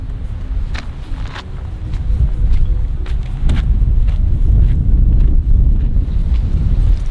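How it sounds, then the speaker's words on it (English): Strong wind on Anafi, Greece, buffets the microphone in a constant, heavy low rumble that swells louder partway through, with occasional light knocks. "it's very, very windy"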